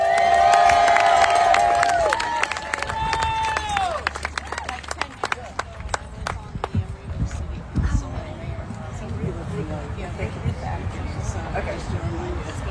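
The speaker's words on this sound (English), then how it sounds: "So let's give a warm applause" Crowd at an outdoor labor rally against ICE in Dublin cheering, whooping and clapping in a burst of noise that thins into scattered claps and shouts, with voices calling out through it.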